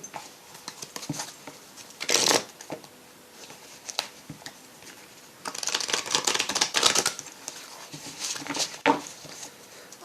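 Tarot cards are shuffled by hand close up in a quiet room, making irregular bursts of riffling and soft slapping patter, louder in several clusters.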